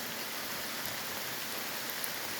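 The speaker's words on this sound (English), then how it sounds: "They might not move around in the rain, but I know they live in the rain" Rain falling steadily through woods on a wet day, a soft continuous hiss of drops on leaves and ground, even and unbroken throughout with no voices.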